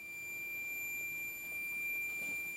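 A multimeter set to diode test holds one steady, continuous beep tone throughout, clear against faint background hiss, during work on a three-phase motor.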